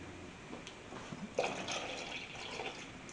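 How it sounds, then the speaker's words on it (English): Water poured into a pot of whole tomatoes being stewed for a meatball sandwich: a soft, steady trickle and splash lasting a few seconds, quiet and close, with a slightly stronger gush midway. "And eventually I am going to add some water into this as well."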